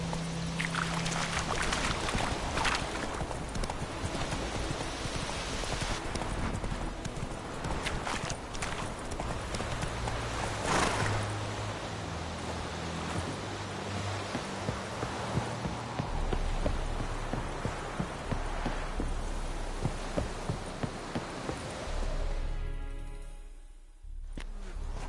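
Roach the horse galloping in The Witcher 3, rapid rhythmic hoofbeats pounding continuously for over twenty seconds over a busy game soundscape of wind and splashing, slowing near the end.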